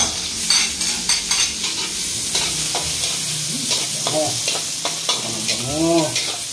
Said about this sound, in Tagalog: Gigisa lang naman natin ito sa yan, bawang sibuyas